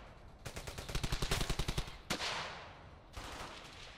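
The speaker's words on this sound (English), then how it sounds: "at least my guys are laying down fire over here" Allied soldiers' gunfire in the WWII shooter Brothers in Arms: Hell's Highway: a rapid burst of about a dozen evenly spaced automatic shots, then a single loud crack with a trailing rumble and a later shot, fairly close.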